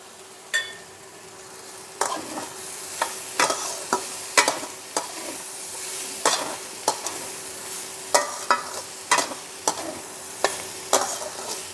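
Sabudana with vegetables and raisins is stirred in a pan, a spatula clacking and scraping the metal in repeated irregular strokes over a soft, continuous sizzle, with no voices.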